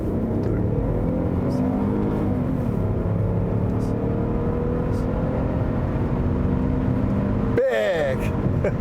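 A 1999 Hyundai Grandeur XG 3.0 pulls away from a 2000 rpm launch, its engine droning loudly and steadily rising in pitch from inside the cabin, ending with an abrupt gear-change dip and clatter.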